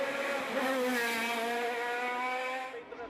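An Osella FA30 race car roars past at high revs, its engine note rising and sustained loud for a few seconds before easing off at the end.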